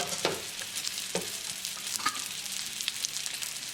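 Coconut-crusted salmon pan frying under a lid, giving a steady close sizzle with a few soft scrapes and clicks from the pan, and no voices.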